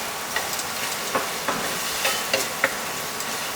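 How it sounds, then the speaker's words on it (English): Garlic frying in a pan, a steady close hissing sizzle with small pops and crackles throughout, no talk. "You can see that the garlic is being cooked."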